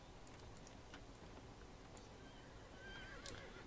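A horse in a video game whinnies faintly over a steady background hiss, with light ticking and clopping sounds scattered throughout.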